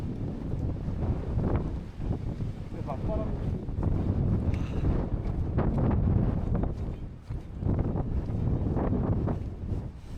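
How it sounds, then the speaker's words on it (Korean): Strong gusting wind roars across the microphone while someone walks outdoors on a long cross-country trek past wind-bent trees, a constant buffeting rumble with a person talking over it. "바람 맞으면서 걸으니까"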